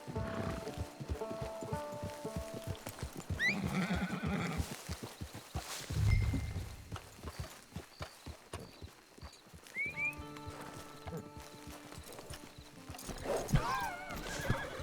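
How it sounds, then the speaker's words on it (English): Horse neighs and whinnies in the Red Dead Online video game, with steady clip-clop hoofbeats throughout and faint background ambience; a second whinny rises near the end. "Get your horse"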